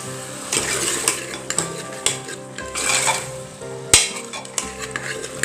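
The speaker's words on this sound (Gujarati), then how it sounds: "હવે એને બધું આપણે હલાવી દઈએ" Pav bhaji ingredients with turmeric, salt and red chili powder stirred in a pressure cooker: a spoon scrapes and clanks against the metal over a soft sizzle, several close strokes with one sharp knock, no talking.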